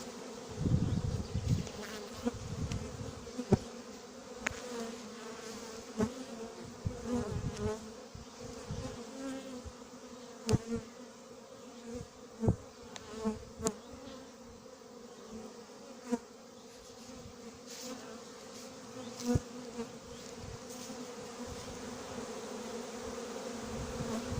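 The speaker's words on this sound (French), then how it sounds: "je suis en plein milieu des abeilles, il y a zéro attaque" A dense, steady hum of many honeybees buzzing close by around a hive, with occasional louder bursts as individual bees pass near.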